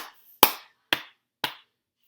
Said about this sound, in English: So there are 1, 2, 3, 4, 5 pat claps, and then you add an extra clap in, and then 2 pats.